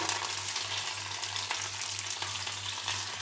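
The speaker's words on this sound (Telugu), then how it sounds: "మంచి కలర్ వచ్చే వరకు ఫ్రై చేసుకోవాలి" Garlic, dried red chillies, curry leaves and onions fry in hot oil for village-style amaranth dal, a steady close crackling sizzle with a faint low hum underneath and no talking.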